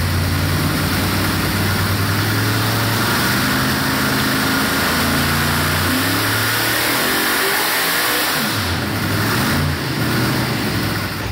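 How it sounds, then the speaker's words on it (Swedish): A Corvette engine mounted on a test bench revs repeatedly, rising and falling in pitch over a steady loud mechanical drone, close by, with no voices. "nu sitter ju en motor i en bänk hos Jens"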